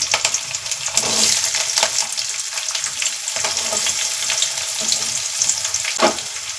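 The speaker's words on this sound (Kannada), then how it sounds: "ಈಗ ಈರುಳ್ಳಿನ ಹಾಕ್ತಾ ಹಾಕ್ತಾಯಿದ್ದೀನಿ" Onions sizzle and fry in a pan with garlic, peanuts and curry leaves, a steady crackling hiss with occasional stirring clatter, close and without talk.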